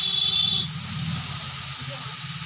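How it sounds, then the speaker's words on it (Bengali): Chicken seasoned with turmeric, salt, chili powder, coriander and cumin fries in a pan, a steady close hiss of sizzling oil that eases slightly after the first half second, with a faint voice underneath. "চিকেনে হলুদ, নুন, লঙ্কা গুঁড়ো, একটু ধনিয়া আর একটু জিরে গুঁড়ো দিয়ে চিকেনটাকে প্রথমে ভালো করে ভেজে নিচ্ছে।"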